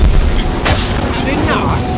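In Hogwarts Legacy, an Incendio fire spell goes off with a loud, booming whoosh that fills the clip, a brief flare of crackle in the middle and a voice speaking over it.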